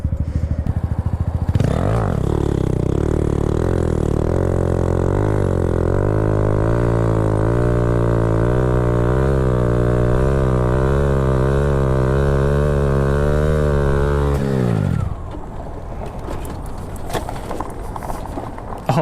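A Honda CBR600RR motorcycle engine roars loud and close during a wheelie, its pitch climbing and wavering through a long sustained rev before cutting off abruptly to quieter wind and road noise.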